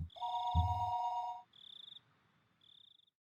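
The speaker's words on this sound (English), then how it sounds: "the phone began to ring again." Electronic telephone ringing in the visual novel Higurashi When They Cry, a bright trilling ring in separate bursts, with a lower tone under the first and two shorter fading rings after, near and alone without speech.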